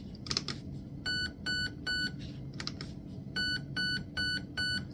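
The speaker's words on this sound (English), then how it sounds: "Pull the trigger until I hear 4 beeps." Faint electronic beeps from an airsoft gun's Raven Evolution Furion electronic trigger unit during programming sound in quick bursts of three, repeated several times, alongside light trigger clicking in a quiet room.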